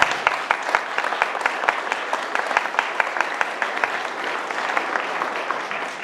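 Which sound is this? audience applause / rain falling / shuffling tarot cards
audience applause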